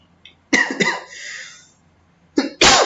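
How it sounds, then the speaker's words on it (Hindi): A man coughs in a few harsh, close bursts, with a brief pause between them and a final strong cough at the end. "मुझे बहुत खांसी हो रहा है"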